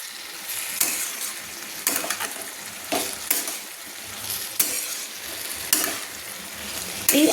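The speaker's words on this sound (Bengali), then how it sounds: "আলু আর পেঁয়াজ কলির সঙ্গে চিংড়ি মাছগুলো দিয়ে একটু কষিয়ে নিচ্ছি।" Prawns, potato and spring onion sizzle in a pan under repeated stirring, with scraping strokes coming about once a second over continuous frying noise.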